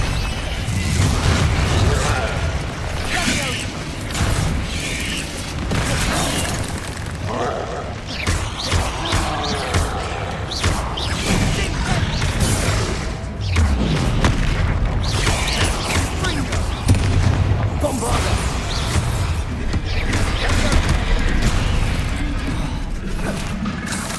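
Confringo fire spells burst repeatedly during a Hogwarts Legacy battle, loud crashing explosions and clattering impacts amid busy combat noise, with voices calling out over the action.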